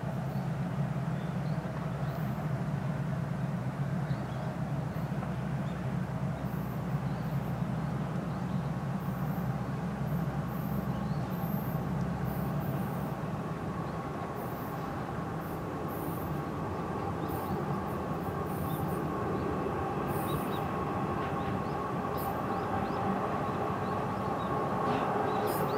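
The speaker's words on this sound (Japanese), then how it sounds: "上り中込小海小淵沢方面の列車が参ります。" A KiHa 110 series diesel train rumbles steadily as it rolls into JR Sakudaira Station on the Koumi Line, a continuous low mechanical drone with faint squeaks, no voices.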